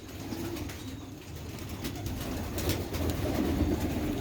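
Sialkoti pigeons coo softly in low, repeated murmurs, and a few quick bursts of wing flapping break in. The birds sound close, with a busy outdoor background and no talking.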